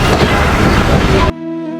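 A passenger train on the Rajshahi to Nachole line rumbles loudly and steadily along the rails with a broad roar that cuts off abruptly near the end, leaving only faint tonal hum.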